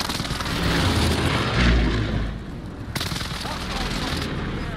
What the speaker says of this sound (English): Allied precision airstrike.